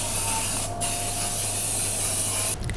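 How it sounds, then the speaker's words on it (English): A steady hiss of hairspray, a cupcake-scented Cocoa Dry product, sprayed continuously for a few seconds, close and fairly loud with brief pauses at the start and end. "I always use this hairspray because I want to smell like cupcakes."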